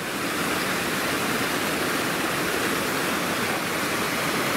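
A waterfall and a swollen river rush steadily right beside a tent at a wild camp in the Harthope Valley, a loud, continuous broadband roar with no voices over it.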